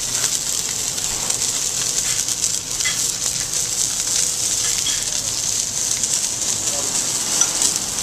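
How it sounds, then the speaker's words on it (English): Alaskan king salmon cooking in a hot restaurant pan with fresh herbs: a constant, close, bright sizzle with crackling spatters, and a voice talks over it. "you start seeing the salmon start to cook at the bottom"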